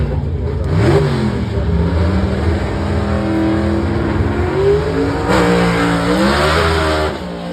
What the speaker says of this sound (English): A little panel van right here of Kelvin Cannon